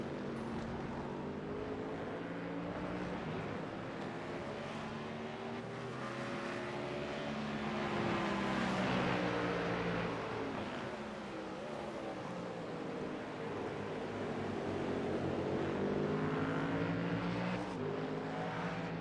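Twin Cadillac race cars battling closely at the Algarve circuit in an IMSA-series racing game, engines droning loudly and continuously with rising and falling pitch through the run, no voices.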